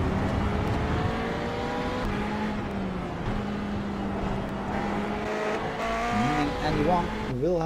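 GT3 race cars in a racing video game on the Belle Isle circuit whine through rising and falling engine pitches with tire squeal, steady and loud under a commentator's voice.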